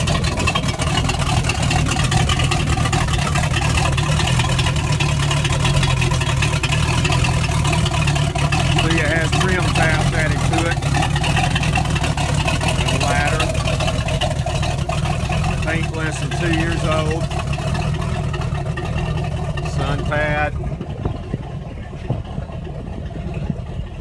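A 1992 motorboat with low hours, stored over winter, its engine running in a steady loud rumble with a buzzing drone throughout, while someone talks over it.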